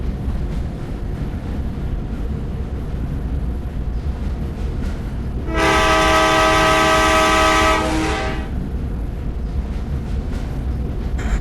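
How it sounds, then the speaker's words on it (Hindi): A train in the Indian Bike Driving 3D video game runs with a steady loud rumble, and a long, loud horn blast sounds for a few seconds midway before the rumble carries on alone. "चल गई दोबारा चल गई ट्रेन।"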